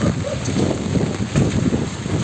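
Strong Typhoon Ulysses wind roars and buffets the microphone in a continuous, rumbling gust, loud and close.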